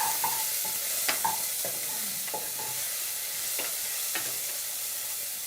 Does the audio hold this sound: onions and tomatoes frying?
yes